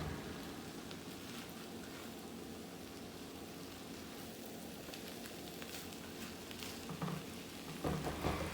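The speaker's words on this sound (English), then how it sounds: "So we're just gonna let this just simmer down, guys." Salmon fried rice simmers in olive oil in a pan, giving a steady, close crackling sizzle throughout, with a few light utensil clinks toward the end.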